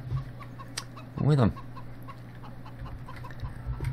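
A chicken on a Farming Simulator 17 farm gives a short burst of clucking midway, loud and close, with a quiet voice talking briefly and faint game ambience running underneath.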